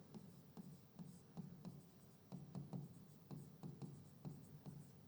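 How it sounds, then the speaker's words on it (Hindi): A teacher writes on a board during a chemistry lesson, producing rhythmic scratchy strokes and taps in steady short clusters, close and fairly faint, with no talking over it. "तो यहाँ पे हम लिखते हैं मिक्सचर"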